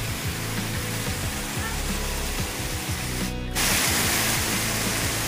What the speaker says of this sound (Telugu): పైన వాటర్ ట్యాంక్ పెట్టి వదులుతున్నారు అనుకుంటండి వాటర్ వెళ్ళి